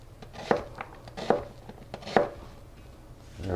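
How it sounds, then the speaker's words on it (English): A knife cuts simple slices of onion on a board, three distinct firm chops spaced evenly apart, close and clear with quiet handling in between. "all I have to do is cut simple slices out of these, and I have perfect onions for my soup"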